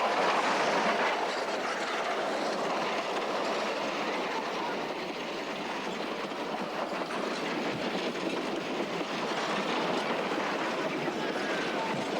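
Georgetown Loop Railroad train running along tracks beside Clear Creek, a steady loud rolling rumble with clattering wheel noise and faint squeals, continuous and close throughout.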